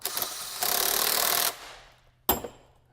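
A 1/2 inch socket tightens a nut on a rectangular trampoline frame, with a sustained buzzing ratchet rattle for about a second, then a single sharp metallic knock, all close up.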